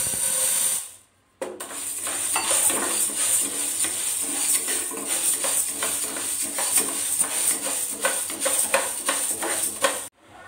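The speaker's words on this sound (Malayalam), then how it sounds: "അടുത്തതായിട്ട് വറുത്തെടുക്കുന്ന ചെറുപയറാണ്" Green gram dry-roasts in a hot pan, with continuous close scraping and rattling of stirred grains over a faint hiss, ending abruptly.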